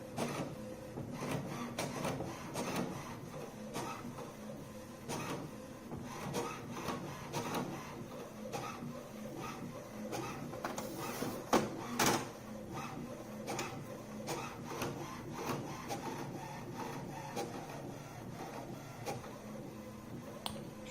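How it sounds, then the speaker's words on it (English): An HP OfficeJet 8025 inkjet printer whirs and clicks steadily while printing an alignment page, the print head shuttling back and forth, with occasional sharper clunks from the paper feed. "now it says printing the alignment page"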